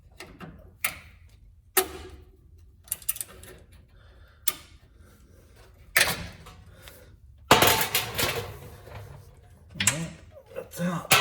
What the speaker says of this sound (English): Needle nose vice grips is usually the best tool to get this clip out.